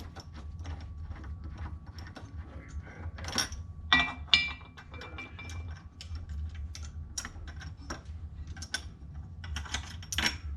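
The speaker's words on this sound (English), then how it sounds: "Unscrew the shell plate bolt." Shell plate bolt being unscrewed on a Dillon XL 650 reloading press, quiet irregular metallic ticks and ratcheting clicks scattered over a faint low background hum, close and alone without talk.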